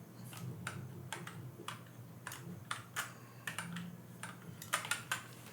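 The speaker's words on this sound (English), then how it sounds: "does David have the clickiest keyboard in the world? Why is it so clicky?" Clicky computer keyboard typing comes in irregular bursts of sharp keystrokes, moderately near but fairly quiet over a low background hum.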